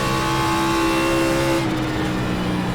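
A NASCAR race car engine in the iRacing simulator roars steadily at high revs while being driven hard into a turn, with the pitch dropping partway through as the car lifts, loud and continuous.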